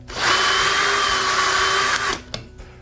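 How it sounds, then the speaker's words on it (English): A power drill runs steadily as it bores pocket holes in wood with a jig: one continuous, loud high-pitched whine of about two seconds, stopping abruptly and followed by a short clack. "now you're ready to start drilling some pocket holes"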